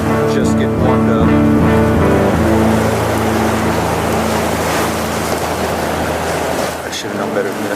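An EF4 tornado roars close by as a loud, steady broadband rush of wind, continuous and overwhelming across the whole stretch, easing slightly near the end.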